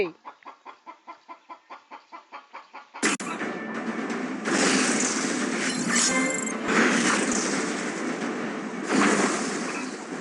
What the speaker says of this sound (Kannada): ಇದು ಕೋಳಿ ಸೌಂಡ್ ಕೇಳ್ತಾ ಇದೆ